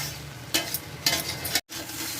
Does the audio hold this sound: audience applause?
no